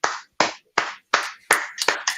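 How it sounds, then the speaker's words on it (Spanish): A small group claps in a class, a handful of sharp, close hand claps spaced roughly every third of a second, growing slightly overlapped and uneven toward the end. "Da un aplauso a Sowap."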